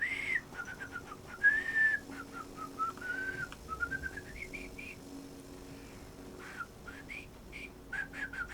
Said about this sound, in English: Usually I can whistle better than that.